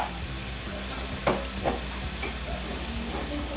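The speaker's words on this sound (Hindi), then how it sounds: "मैं अब इसमें क्रश्ड कोकोनट डाल रही हूँ" Crushed coconut is stirred into carrot halwa cooking in a pan, giving a soft continuous sizzle with a couple of louder scraping stirs, close and moderate, with no talk.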